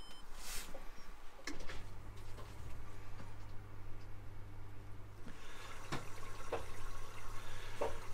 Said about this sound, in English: the motor's actually running now, just agitating the washing in the drum